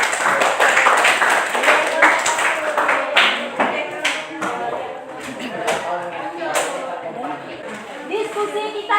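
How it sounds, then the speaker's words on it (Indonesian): A classroom of students claps together after a group discussion, with a dense run of sharp, close handclaps that slowly thin out into scattered claps. "Tepuk tangan semuanya."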